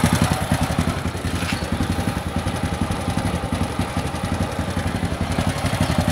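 A standard-carburetor motorcycle idles close by, its engine ticking over in an even, rapid pulsing beat with a slight mechanical clatter, steady throughout and with no voices.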